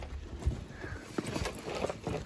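Hooves of a mare with her foal clop on the ground in a few irregular, nearby thuds amid rustling background noise.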